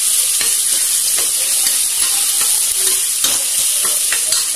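Curry leaves sizzle and fry in hot oil for sambar rice, a steady loud hiss with intermittent stirring scrapes throughout and no voices.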